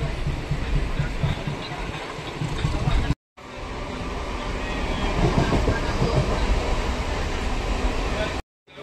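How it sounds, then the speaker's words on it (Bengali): A Baruipara-bound local train runs on its rails out of Sealdah toward Bidhannagar Road, giving a steady, loud rumble with rhythmic clatter. Two short dropouts break the sound. "এই মুহূর্তে আমাদের ট্রেন প্রবেশ করছে তার প্রথম হল্ট বিধাননগর রোড"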